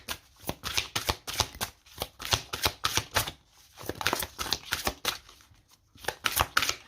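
Tarot cards riffled and shuffled by hand in a rapid, continuous series of crisp flutters, close and fairly loud, with only brief gaps between passes and no talking.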